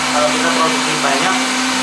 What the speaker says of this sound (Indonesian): Kita blender sampai lembut ininya ya, kita blender sampai lembut ya